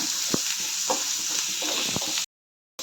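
Chopped shallots sautéing in coconut oil for Kerala-style masala chicken, a steady close sizzle with a few soft stirring scrapes, cut off by a short silence near the end.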